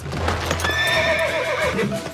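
A horse in an animated riding-club scene gives a loud, shrill whinny over a steady clip-clop of hooves, close by and with no talk.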